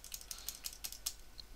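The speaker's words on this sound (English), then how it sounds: "hit the plus and minus keys on your keypad." Plus and minus keys on a computer keypad are tapped about half a dozen times in a quick, faint run of crisp clicks, heard alone and close.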